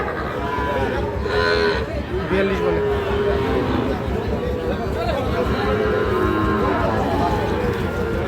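Cattle and young calves moo several times amid a noisy livestock market crowd, with people talking over the animals.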